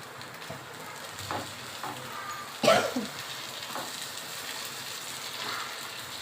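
Green chillies and curry leaves dropped into hot oil for a prawn masala curry, giving a steady close sizzle with a sharper burst of spattering midway and a few soft stirring knocks.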